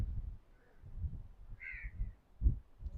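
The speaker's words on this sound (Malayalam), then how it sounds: "കുറച്ച് കാക്കകളുടെ സൗണ്ട് അല്ലാതെ വേറെ സൗണ്ടുകളൊന്നും ഇവിടെ നമുക്ക് കേൾക്കാനില്ല" Crows caw a few times in a quiet outdoor spot near Kanyakumari, one clear call standing out over a low rumble of distant wind and ambient noise, with no voices.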